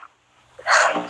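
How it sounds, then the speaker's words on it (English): A single loud sneeze bursts out near the mic after a brief quiet pause, a short intake followed by a sharp explosive release. "just one second, I gotta sneeze"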